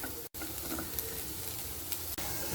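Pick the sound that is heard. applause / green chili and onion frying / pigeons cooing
green chili and onion frying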